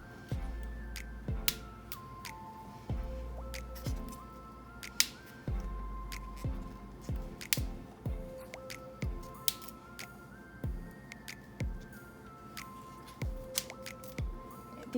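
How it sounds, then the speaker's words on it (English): Broccoli florets snapped off a head by hand, a steady run of sharp, crisp cracks and squeaky snaps, close and clear, repeating every second or so with no talking. "I'm gonna break each little floret of broccoli off individually"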